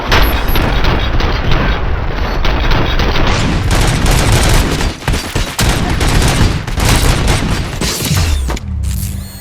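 Heavy gunfire in a RoboCop: Rogue City shootout, with dense rapid bursts, booms and mechanical clatter that stay loud for most of the clip before cutting off abruptly near the end.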